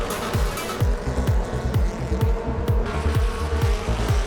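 Mod 4 race cars running side by side at Kingsport Speedway, loud engine roar with repeated revving sweeps as the cars pass close by, steady and continuous.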